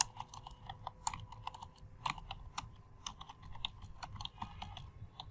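Typing on a computer keyboard while entering text into a WordPress menu: a steady stream of close, light key clicks with occasional louder taps, quiet and with no voice.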